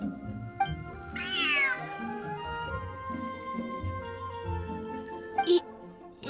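An in-game cat in Genshin Impact gives a clear rising meow early on, over a bed of game music, with a brief sharp chime near the end.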